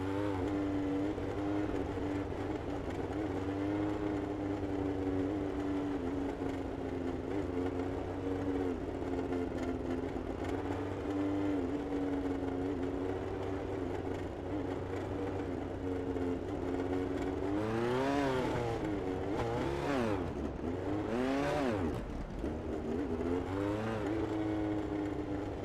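Speedcar engines in the iRacing sim race steadily at full throttle in a Sydney 50-lap e-sports event at Lernerville, a sustained loud droning buzz with pitch sweeps late on, no voices.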